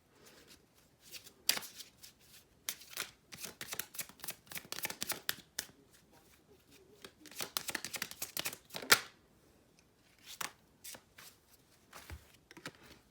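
Tarot cards are shuffled close by in irregular bursts of quick riffling and soft slapping, with short pauses between runs and no talking.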